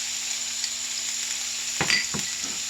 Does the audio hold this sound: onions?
yes